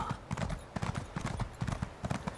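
Horse hooves clip-clop in steady, quick repeated beats in the Elder Scrolls video game, close and fairly loud, with no talk over them.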